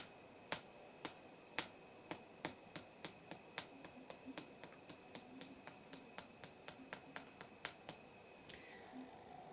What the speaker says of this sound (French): J'applaudis avec les poignets.